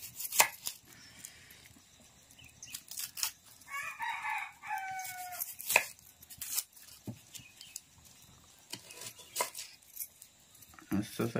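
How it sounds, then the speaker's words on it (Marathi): A knife chops onion on a board in a Konkan village kitchen, giving a run of sharp, uneven cuts while roosters crow and chickens cluck nearby and birds chirp in the background. "ते कांदा कापते."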